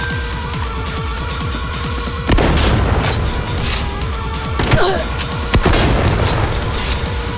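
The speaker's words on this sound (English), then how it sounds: "a bomb is strong enough to burst inches of titanium open like that" Explosions in the video game Cyberpunk 2077, where a bomb bursts open thick titanium: booming blasts at intervals over a steady rumbling game soundscape, loud and close.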